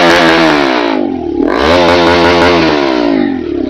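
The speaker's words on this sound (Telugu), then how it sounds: "సో ఇదన్నమాట మన NS200 యాక్రోపాబిక్ సైలెన్సర్ సౌండ్ అయితే చాలా చాలా క్రేజీగా ఉంది" A Bajaj NS200 motorcycle fitted with an Akrapovic exhaust, idling in neutral, revs loudly and close by in a harsh, raspy burst, dips briefly, then climbs again with crackling pops.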